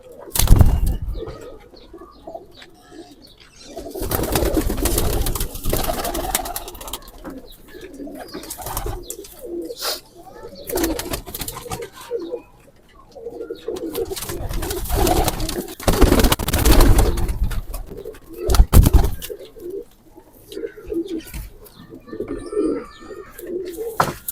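Chinese pigeons coo in low, repeated bursts, with occasional chirps and wing flaps nearby; the cooing swells and fades across the clip.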